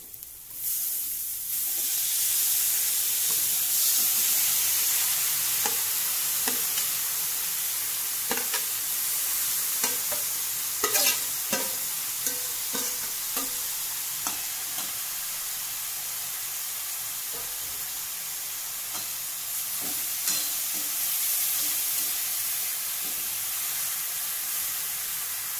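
Grated radish being stirred in a hot pan, a steady hissing sizzle with intermittent scraping and tapping of the spatula against the pan, close and continuous.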